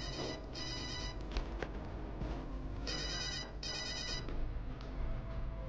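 Telephone bell rings in repeated bursts, two short rings then a pause and two more, moderately loud indoors against a faint background hum with no talk.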